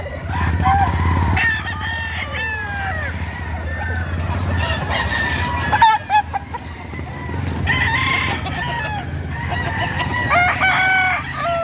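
Roosters crowing repeatedly at a gamecock market, several overlapping crows near and farther off, with clucking and a low crowd murmur underneath.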